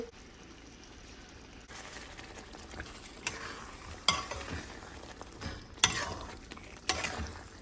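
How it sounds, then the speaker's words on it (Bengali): Leftover chicken kebab pieces are stirred into a simmering curry in a pan, with a soft continuous sizzle and bubbling broken by several sharper spoon scrapes and clinks. "কারিটা মোটামুটি হয়ে গেছে, আমি চিকেনগুলো এবারে দিয়ে দেবো।"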